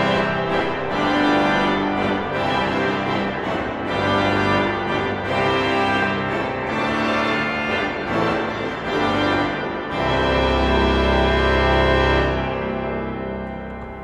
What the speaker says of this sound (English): We've got some big reeds on the great, 16, 8 and 4 trumpets, and they all together sound like this.